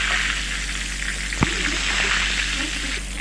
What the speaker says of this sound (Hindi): वो बैगन को मैं अभी फ्राई करके ले लेंगे